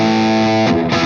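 An electric guitar played through a Wampler Gearbox Andy Wood signature overdrive pedal with extra gain rings out as a loud, sustained distorted chord, then changes to a new chord near the end.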